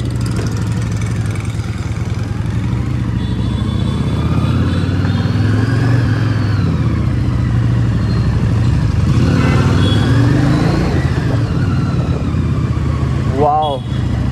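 A Harley-Davidson Street 750 motorcycle engine runs steadily up close during a test ride, its low throbbing drone rising and falling slightly, with wind rushing over the microphone throughout.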